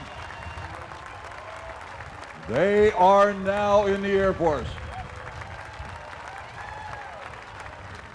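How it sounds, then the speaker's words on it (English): A crowd applauds new airmen at an Armed Forces Day parade in Torrance, with clapping running throughout under a loud amplified announcer's voice in the middle. "a great big round of applause for these brand new airmen"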